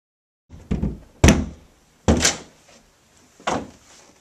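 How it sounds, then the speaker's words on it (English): A door is battered down with four heavy, irregularly spaced wooden thuds, each sharp and close, with brief quiet between the blows. "The violence of breaking down the door seemed to fill the room with a pervading dust."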